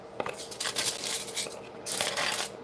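Crisp crinkling and crackling of thin aluminum foil, in several bursts of handling with brief pauses, fairly close.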